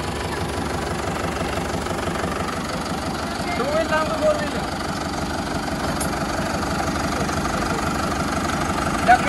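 Diesel engine of an Arjun 605 Novo 60 hp four-wheel-drive tractor running steadily in gear, a continuous low rumbling drone with faint knocking, loud and close throughout.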